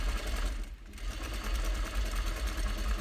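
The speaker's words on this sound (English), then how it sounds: "And then you're going to back tack again to lock in your seam." A sewing machine runs steadily while stitching a French seam, a continuous close mechanical whir with a brief slowdown partway through, as when back tacking to lock the seam.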